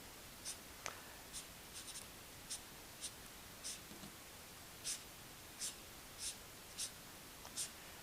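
Chartpak pen strokes scratching across paper while outlining grass, a quiet drawing session; short crisp scratches in irregular bursts, close and faint with no voice.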